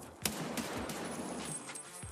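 Gunfire in the video game Escape from Tarkov, a few sharp separate shots over a busy, muffled background, fairly quiet overall.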